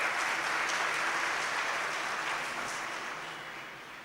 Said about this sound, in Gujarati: એમને એક તો જોરદાર તાળીથી વખાણ.